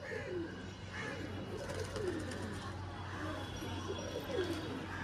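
Pigeons at a bird shop coo softly in low, rolling calls, several overlapping phrases at low volume against a quiet steady background hum.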